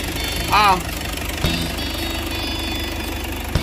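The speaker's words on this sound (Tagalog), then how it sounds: "Sir Alan, ang tahimik ng andar" A restored Isuzu Trooper's 4JX1 diesel engine idles quietly and smoothly, a steady low hum with a brief higher whine and a couple of small knocks, nearby and continuous.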